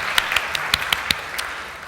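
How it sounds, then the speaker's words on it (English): Audience at a Melbourne panel discussion applauding, a steady run of sharp claps at moderate distance that gradually thins out, with no talking over it. "So, another round of applause,"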